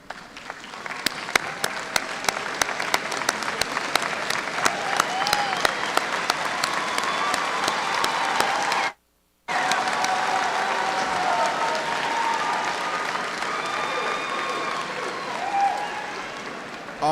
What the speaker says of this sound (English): stand and receive a hearty round of applause